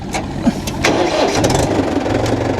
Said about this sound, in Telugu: ఓకే, స్టార్ట్ చేస్తున్నాను బండి.